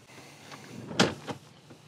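The sliding side door of a Volkswagen Multivan T7 van moves with a short whooshing slide and a sharp latch thunk near the middle, followed by a softer clunk, close by and without speech.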